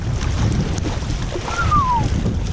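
Steady gusting wind rumbles across the microphone aboard a sailboat between Södertälje and Kapellskär, Sweden, with a faint high whistle rising and falling briefly in the middle.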